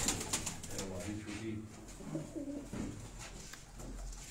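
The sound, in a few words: pigeons cooing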